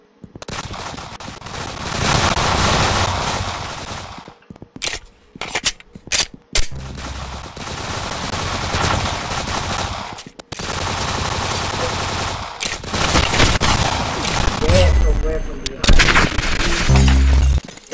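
Gunfire in Roblox, with bursts of rapid automatic shots broken by short pauses, loud and close, and people talking over parts of it.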